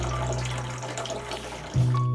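Municipal tap water, not drinkable and pumped back through the lines during a Texas freeze, runs steadily from a faucet into a sink, a constant close rush with a slight change in flow near the end.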